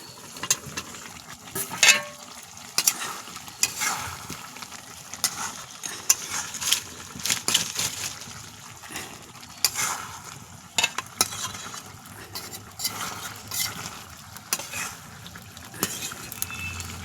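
Tomatoes and potatoes fry in a pan, giving a low sizzle under repeated scraping and stirring strokes that come in uneven bursts throughout.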